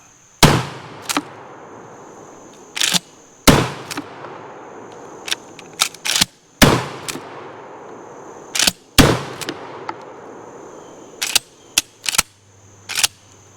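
An Ithaca 37 M&P pump-action shotgun fires about a dozen loud, sharp, close blasts at uneven intervals, some in quick pairs, each ringing out briefly into a quiet outdoor background with no talking.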